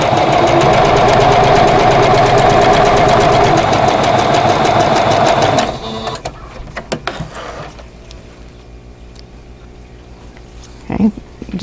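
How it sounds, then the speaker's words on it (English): A sewing machine runs loud and steady while stitching a vintage quilt block in a straight seam, then stops abruptly, leaving faint handling clicks and a brief knock near the end. "and then I'm going to sew straight down"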